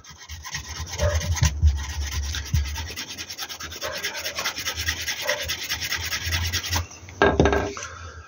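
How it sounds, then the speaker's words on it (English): Leather edges of a pouch being burnished, a steady rubbing friction with rhythmic strokes close by, pausing briefly near the end before a short louder burst. "I've never really done this burnishing thing too much before"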